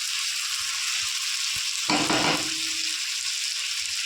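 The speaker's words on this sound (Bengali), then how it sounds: "চিকেন আমি ভালো মতো কষিয়ে নিয়েছি দেখুন কত সুন্দর একদম মশলাটা ভাজা ভাজা করে নিয়েছি" Chicken masala for a Bengali chicken kosha sizzles steadily in a pan, a constant close hiss with a louder, brief burst of crackling near the middle as the pieces are stirred.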